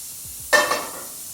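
A sudden burst of sizzling as olive oil and butter hit a hot pan, loud at first and then settling into a quieter crackle.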